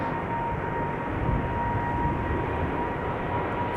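A KLM Cargo Boeing 777-300 rumbles at Amsterdam Schiphol Airport, a steady, broad jet engine roar with a faint high whine, holding evenly throughout with no talk.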